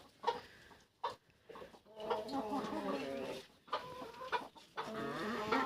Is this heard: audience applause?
no